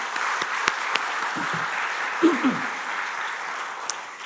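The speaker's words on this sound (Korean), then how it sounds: "우리 하나님께 영광의 박수 올려드리겠습니다" A church congregation claps together in a steady, continuous wash of applause during a Friday prayer service, with a few brief voices rising faintly underneath.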